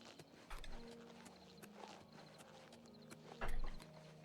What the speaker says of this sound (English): Yeah, there's my horse.